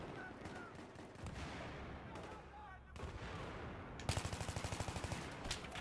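Battlefield 3 gunfire fills the scene with steady distant shooting and explosions, then ends in a loud close burst of rapid automatic fire near the end. Someone speaks briefly over the din.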